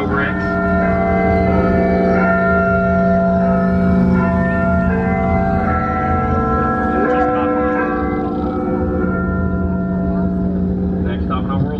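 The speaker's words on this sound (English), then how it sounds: "the bell inside is called Big Ben" A chiming bell from a Lego replica of Big Ben in Legoland California's Miniland, heard from a boat ride: sustained ringing tones layered over engine hum and ambient noise, with voices nearby.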